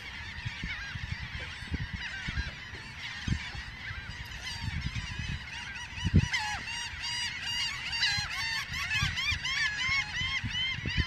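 A flock of geese honking continuously at sunrise on Egmont Key, dense overlapping calls from many birds, fairly close and loud, over a low wind-like rumble.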